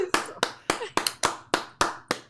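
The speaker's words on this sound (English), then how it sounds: "Let's give her a round of applause." Applause from a small audience at a live show: a short run of about eight separate, evenly spaced claps, close and fairly loud, with no talking over them.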